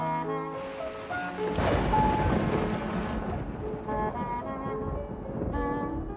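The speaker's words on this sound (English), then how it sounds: "The storm's getting bigger." Cartoon thunderstorm over a fishing boat, with steady rain and a rumbling thunder swell under soft musical tones; no voices heard.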